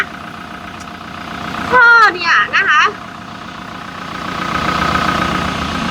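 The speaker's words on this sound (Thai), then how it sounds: "เปลี่ยนให้สตาร์ทเครื่องยนต์ไว้แล้วนะคะ" A Toyota Hilux Revo pickup's diesel engine idles with a steady low rumble throughout, briefly overlaid by a burst of nearby speech partway through.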